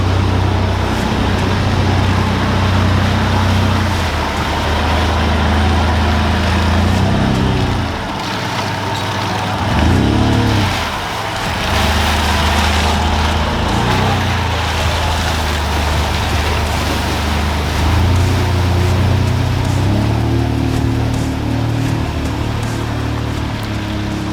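A four-wheel drive's engine labouring along a sandy track on Fraser Island, a loud, continuous low drone that rises and falls as the revs and gears change, heard from inside the cabin.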